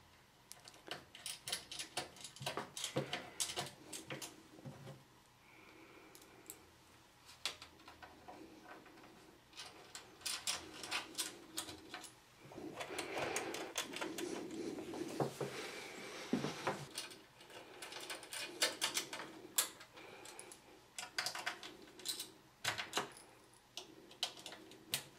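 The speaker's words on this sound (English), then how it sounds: "we're just going to put the screws in from the outside" Screws go in from the outside to hold a PC power supply in a Cooler Master case: faint, close, irregular ticking clicks and small metallic scrapes, with brief louder flurries scattered throughout.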